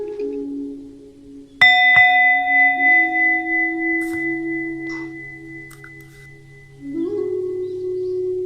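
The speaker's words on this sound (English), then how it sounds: "as I will ring the bell" A meditation bell is struck once, giving a bright metallic ding that rings on with a long, sustained tone while a low steady hum sits beneath it, near and clear with no talk.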